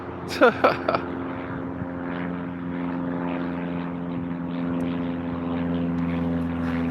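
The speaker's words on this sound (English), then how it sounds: "Do you see that plane?" A propeller airplane flying overhead outdoors near water, its droning engine hum steady and sustained throughout, after a few brief knocks at the start.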